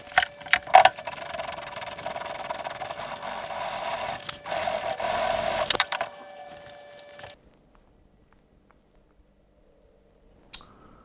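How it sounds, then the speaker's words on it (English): A Woodruff key from a TRS 300 trials motorcycle engine is filed by hand, a harsh close rasping in uneven strokes for about six seconds, then quiet apart from a faint click near the end. "Right, that's filed down just a bit more."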